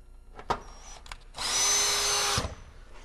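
A power drill drives screws into screw-on stone veneer panels, with a few short clicks and knocks before one sustained whirring run of about a second, close and loud.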